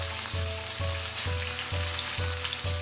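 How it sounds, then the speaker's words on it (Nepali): Chicken pieces for choila fry in a pan with a steady, loud, close sizzle, broken by a regular rhythm of stirring pulses about every half second. "अब यो चिकनलाई केही बेर हामीले फ्राई गर्नुपर्छ।"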